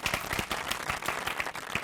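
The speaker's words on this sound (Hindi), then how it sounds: "तालियां!" A small group claps during a comedic award presentation, quick uneven hand claps close by, moderately loud and sustained for a moment.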